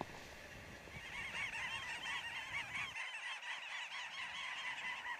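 A dense colony of little auks calls from an Arctic bird cliff at Svalbard, countless chirring, overlapping cries forming a continuous chattering din, fairly distant, with wind-like rumble in the first part.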